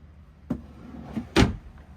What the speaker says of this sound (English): And then you have two of these larger drawers.